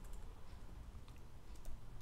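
Computer keyboard keys clatter in a quick, uneven run of light taps while code is typed, fairly faint and close with no talking.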